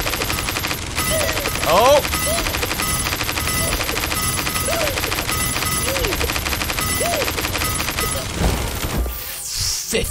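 Rapid, sustained automatic fire from the Gatekeeper in a video game, loud and relentless with crashing impacts mixed in, a man's short exclamation early on, and the volley cutting out near the end.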